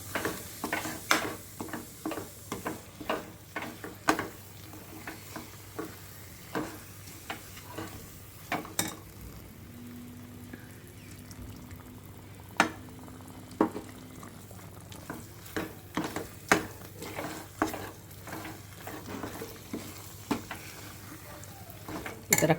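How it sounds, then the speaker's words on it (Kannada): Jaggery mixture stirred with ghee in a pan, with soft scraping and tapping strokes in an irregular rhythm, close and fairly quiet, over a low steady background hum. "ತುಪ್ಪ ಹಾಕ್ತಾ ಕಲಿಸ್ಬೇಕು."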